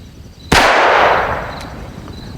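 A single loud, sharp report from a Phoenix Arms HP25A pistol at a shooting range, followed by a long decaying echo that fades over about two seconds, with faint background noise before it.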